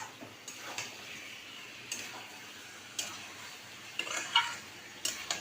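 Chicken with potatoes and spices being stirred and sautéed in a pan: faint, sparse scrapes and light clicks of a spatula against metal at irregular intervals, with no voices.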